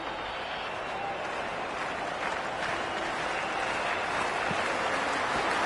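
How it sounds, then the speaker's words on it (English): Stadium crowd in the Cricket 26 video game during an India vs Pakistan T20 match, a dense, steady roar of cheering and clapping that fills the whole stretch without letting up. "There's a buzz, a real buzz coming from the stands."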